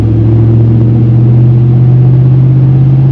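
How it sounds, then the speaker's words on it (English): A deep, loud Hemi V8 engine in a Ram TRX pickup rumbles steadily under light acceleration, its low exhaust note droning from the rear throughout with no voices. "that Hemi just sounds so good coming out the rear of this truck"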